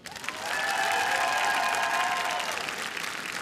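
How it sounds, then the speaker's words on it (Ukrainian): Audience applause at a comedy stage show, a dense, loud wash of many hands clapping that swells quickly and holds steady, with a faint sustained tone underneath. "Ваші оплески!"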